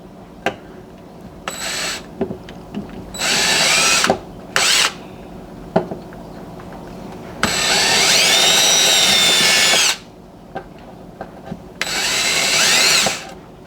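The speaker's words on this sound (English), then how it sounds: "just drilling these pilot holes in here" A power drill bores pilot holes into a wooden block under kitchen cabinets, running in several loud close bursts of varying length separated by short pauses and scattered clicks and knocks.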